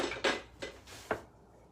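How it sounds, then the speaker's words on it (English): A utensil scrapes and taps against a bowl while stirring chocolate chips into melted chocolate, with three distinct clinks spaced unevenly, close and moderately quiet. "I'm just gonna stir the rest of those chips in"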